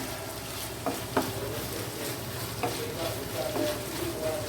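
Butter melting into egg chicken mash in a covered pan sizzles in a steady, dense hiss, with a few soft clicks and taps of the pan over the constant frying noise.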